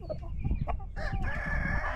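A rooster crows loudly nearby, a drawn-out call following a few short clucks, with some farmyard background noise.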